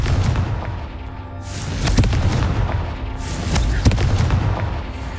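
Confringo blasting spell in the Hogwarts Legacy video game, loud booming explosions in quick succession with rumbling blasts and sharp cracks filling the whole stretch, close and heavy.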